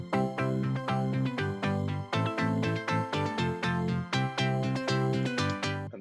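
Violin part from the Spitfire BBC Symphony Orchestra library plays in a steady, rhythmic pattern of short repeated bowed notes that keep a track moving, heard clearly and alone within the mix.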